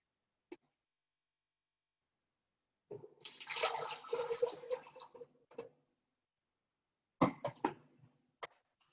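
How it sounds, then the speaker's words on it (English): One cup of water pours into a kitchen blender, a short splashing gush that tapers off, followed by a few faint clunks and a brief second splash, quiet and close. "So I'll just put 1 cup of water into my blender."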